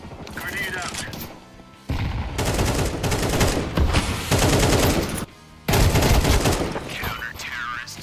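Rapid gunfire in Counter-Strike 2, dense bursts of automatic shots loud and close with brief pauses between volleys, voices talking over the action.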